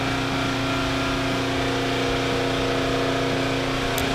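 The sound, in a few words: exhaust fan running in a paint booth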